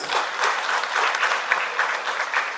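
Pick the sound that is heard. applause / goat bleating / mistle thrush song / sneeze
applause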